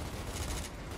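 A grenade blast in Gears of War: a dense, rumbling crash of noise lasting about a second with no pause, loud and close, with nobody talking over it.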